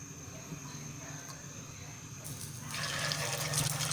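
Shami kebabs go into melted ghee in a pan, and a soft background hiss swells into a brighter, steady sizzle about two-thirds of the way through, close up and with no talking.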